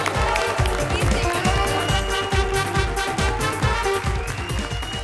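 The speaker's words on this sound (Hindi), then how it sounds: "एक बार जोरदार तालियां हो जाएं कृष्णा सुदेश के लिए." A television comedy show's studio audience applauds Krushna and Sudesh with loud, dense, sustained clapping that continues steadily throughout.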